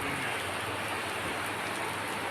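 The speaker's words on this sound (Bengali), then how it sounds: "প্রচুর বৃষ্টি হচ্ছে" Heavy rain falls steadily in a continuous, dense downpour, a close and even roar of drops on the ground with no voices.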